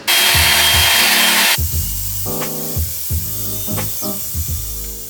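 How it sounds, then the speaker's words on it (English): A circular saw cuts a line through a hardwood floor indoors, opening with a loud sustained burst of cutting noise, then giving way to short intermittent whines and clunks of the blade and tool, near and loud, with no talk. "with the circular saw, my brother cut a line in the hardwood floor"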